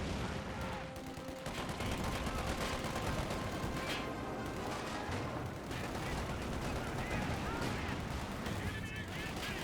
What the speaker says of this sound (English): Got some artillery being brought in. Looks like major artillery.